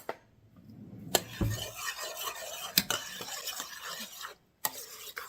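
Homemade lasagna sauce stirred in a pan, soft scraping and swishing of a spoon with a few sharp clinks against the rim, quiet and close, no voices.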